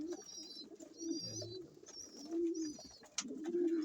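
Pigeons coo softly in a loft, low repeated rolling calls with thin chirps and rustling around them, fairly near and steady.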